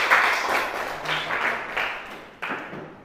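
A small class group applauds in a classroom, with brief bursts of clapping sounding near and moderately loud, rising and fading over a few seconds.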